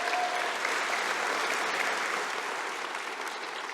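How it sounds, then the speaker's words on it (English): An audience at a scholarship awards ceremony applauds steadily, a dense, even wash of clapping from a sizable crowd that holds at a moderate level throughout. "A round of applause."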